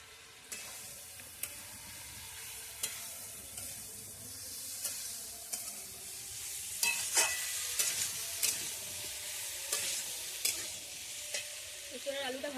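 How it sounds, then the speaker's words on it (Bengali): Young jackfruit and potato stir-fried in spice paste in a hot pan, a steady loud sizzle with repeated scraping stirs and clinks of the spatula throughout. "এঁচোড়ের আলুটা মশলার সাথে ভালো করে কষিয়ে নেব"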